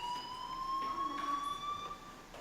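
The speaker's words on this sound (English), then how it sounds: "do you hear that fire alarm? That means you should be outside." Fire alarm in the video game Life Is Strange: Chrysalis, a steady electronic tone sounding continuously and fairly loud throughout, with a faint background bed beneath it.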